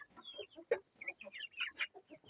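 Several hens cluck and squawk in short, agitated bursts, close by, with overlapping calls and no talking.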